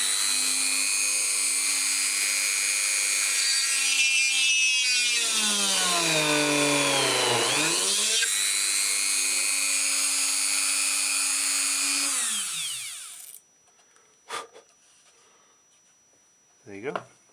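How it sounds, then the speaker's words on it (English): A small Dremel drill press bores a 3mm hole through a wooden bead with a loud, high whine that dips in pitch as the bit bites into the wood, rises again, then stops, leaving a few clicks and knocks. "So this is my little Dremel press that you've got here"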